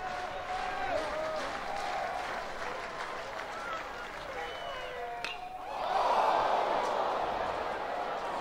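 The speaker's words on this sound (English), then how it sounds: "Even his long foul balls, get a reaction from this crowd." A college baseball crowd at LSU against South Carolina rises into a swelling roar and cheer after a long foul ball, following steady background murmur and a commentator's voice at a large stadium.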